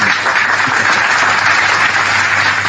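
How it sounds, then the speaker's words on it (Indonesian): Audience applause at a religious talk, a steady wash of many hands clapping at even loudness throughout, with no voices over it. "Tepuk tangan lagi"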